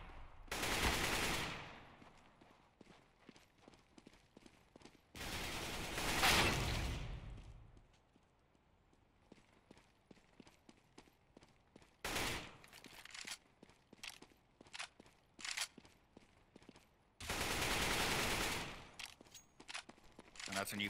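Gunfire in the CS:GO video game on the Dust II map, with several long loud bursts of automatic fire separated by clicks, footsteps and scattered single shots.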